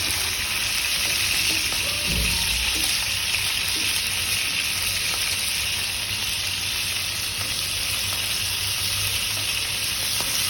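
Hilsa fish pieces frying in hot oil, giving a loud, dense, continuous sizzle that holds evenly throughout, with a few faint stirring knocks and no talking.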